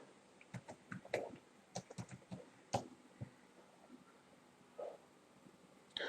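Typing a search query on a computer keyboard: quiet, irregular keystrokes in short clusters with pauses between them, close and alone with no talking.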